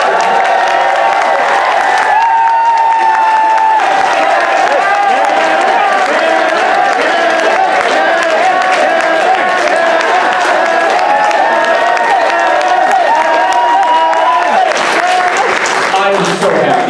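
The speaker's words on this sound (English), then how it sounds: "let's give Kevin a round of applause" Sustained audience applause with some cheering at a fan convention closing ceremony, loud and continuous throughout, with a voice speaking over the crowd.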